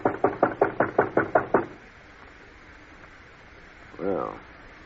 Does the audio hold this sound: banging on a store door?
yes